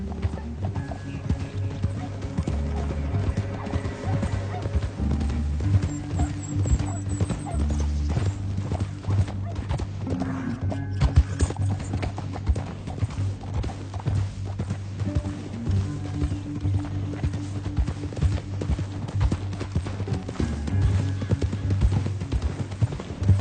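Continuous rhythmic horse hoofbeats clip-clop at a steady pace over a low rumbling background in the video game Red Dead Redemption 2, loud and close, with an occasional faint whinny.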